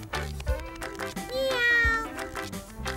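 A cartoon cat meows in drawn-out, tonal cries, one long rising meow rising clearly above light background sound, with no talking.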